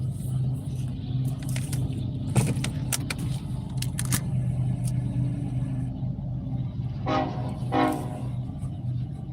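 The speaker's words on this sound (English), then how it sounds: "we'll have the train sound in the background." A steady low rumble of a train carries on in the distance, with a couple of horn toots near the end.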